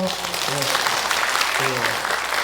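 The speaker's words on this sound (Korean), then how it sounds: "박수 한번 쳐요." An audience at a Buddhist temple dharma talk breaks into a burst of applause, dense clapping that continues under voices calling out.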